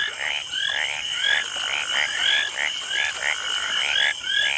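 Frogs croak in a loud, rhythmic chorus of repeated short calls, close and continuous, with no voices over them.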